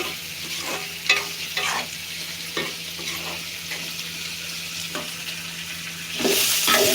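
Potato and papaya bhaji frying in a pan, steady sizzle broken by repeated spatula scrapes and stirring knocks, close up with no talking, the sizzle growing louder near the end.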